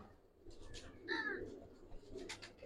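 Pigeons, Giribaz and colored breeds in a loft, give a few soft coos, one clear tonal call standing out in the middle, with faint fluttering and room noise around them.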